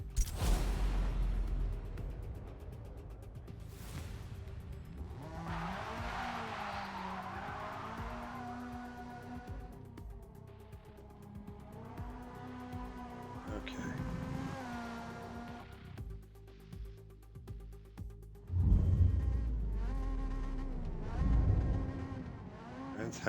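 Hyundai Elantra touring car lapping Brands Hatch in the Forza Motorsport racing game, the engine revving up and down through gear changes, with tire squeal and skidding in corners and loud bursts near the end.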